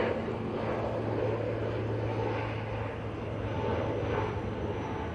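A Qatar airliner takes off at Manchester Airport, heard as a steady, loud broadband jet roar holding constant throughout, with a low engine hum beneath and no talk.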